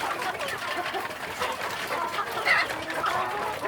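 Free-range village chickens (ayam kampung) clucking nearby in a steady, busy chatter of short calls.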